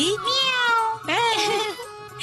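A person imitates a cat in a scene from a Tamil TV serial, giving two drawn-out, wavering meows that are close and clear.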